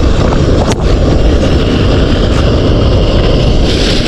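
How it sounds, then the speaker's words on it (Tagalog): Strong wind buffets the microphone continuously, a loud low rumbling roar with no speech. "Medyo mahangin po, pasensya na po."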